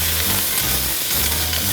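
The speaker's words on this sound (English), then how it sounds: "You hear that sizzle?" Andouille sausage sizzles and crackles steadily in hot olive oil in a pan, a loud, close, continuous frying hiss with no talking.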